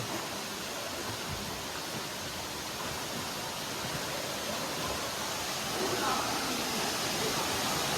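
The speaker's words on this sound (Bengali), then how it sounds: "ওই যে ওইটা হচ্ছে যে মেন ফলস" The main falls of Tada Waterfalls in Tamil Nadu pour with a steady, dense roar of rushing water that fills the whole scene without a break, holding an even, close wash of noise throughout.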